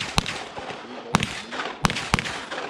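Four sharp, loud handgun shots ring out at an IPSC shooting match stage, spaced irregularly over a few seconds against a low background murmur.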